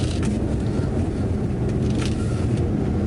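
BMW G80 M3 Competition xDrive pulling away at full throttle, a steady low engine roar with rumble, loud and continuous.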